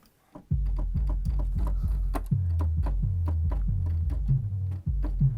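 Deep, pitched tom-drum hits play a steady, low bass-line groove, each thump decaying quickly, clean and close with no talking.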